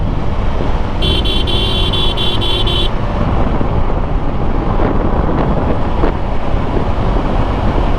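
A Suzuki Gixxer GSX-R 150 motorcycle riding at speed on the road: a loud, unbroken roar of wind buffeting the microphone over engine and traffic noise, with a brief horn tone early on and no speech.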